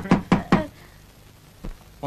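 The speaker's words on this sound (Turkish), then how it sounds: "Kapı vuruldu değil mi?" Three sharp, close knocks on a house door in quick succession, followed by a quieter single knock, heard in a scene from a Turkish comedy film with a voice starting at the end.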